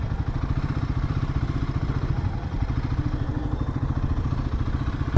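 A Royal Enfield Himalayan 450 motorcycle is ridden along a road, its engine thumping in a fast, even pulse that stays close and steady throughout.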